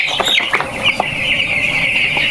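Chickens being grabbed and caught by hand at a poultry farm, giving repeated close clucks and squawks with a brief wing flap over steady barn noise.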